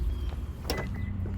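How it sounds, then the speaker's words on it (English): A 2024 Honda Civic Sport Hatchback auto-unlocks as its owner walks up to the door, a single short mechanical thunk of the door lock heard faintly over outdoor background noise. "here we would get to experience the auto unlock by approaching the door."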